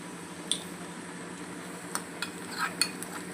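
Asafoetida drops into hot oil for a tadka, giving a soft steady sizzle with a few faint clinks of a spoon against the pan.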